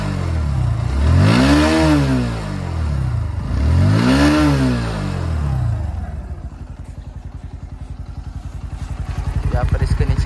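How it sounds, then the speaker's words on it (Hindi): Bajaj Pulsar NS 125 motorcycle revved twice through its exhaust, each rev climbing and falling, then settling into a steady close idle putter that picks up slightly at the end. "तो चलिए अब इसके एग्जॉस्ट साउंड सुनते कैसी है।"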